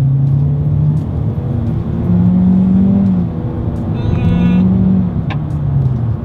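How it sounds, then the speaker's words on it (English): A 2021 Hyundai Elantra accelerating from a rolling start, heard from inside as a steady droning engine hum that rises and falls with gear changes, loud and continuous. "let's see how quickly we can get this new 2021 Hyundai Elantra here up to speed"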